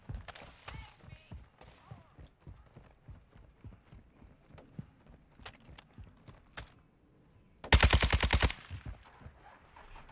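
Gunfire in an online multiplayer shooter at Sawah Village: scattered shots beneath quiet chatter, then a loud, dense burst of rapid automatic fire about two-thirds through, followed by a few more faint pops.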